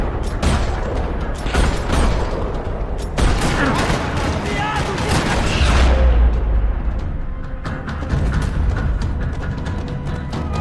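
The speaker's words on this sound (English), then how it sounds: "Another parking lot rattling with gunfire." Dense rapid gunfire rattles through a parking lot in the Max Payne 3 video game, with bursts, booms and mechanical clatter layered over game audio and voices.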